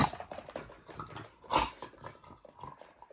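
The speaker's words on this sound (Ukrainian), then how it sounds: "Моя собака дуже любить гратися." A pet dog at play indoors, giving close, irregular bursts of pattering, snuffling and small whimpering noises with one louder burst midway, and no talk over it.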